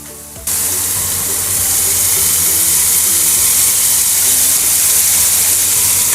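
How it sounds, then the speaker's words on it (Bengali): Prawns fry in oil over a high flame for a malaikari, starting abruptly as a loud, dense, continuous hiss and sizzle close by with no talking. "চিংড়ি মাছগুলো দেখতে পাচ্ছ একদম অলমোস্ট ভাজা হয়ে এসছে"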